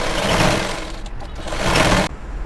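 A sewing machine runs steadily, stitching a seam on a gathered pant, with a brief slowdown midway before the whirring resumes and cuts off near the end.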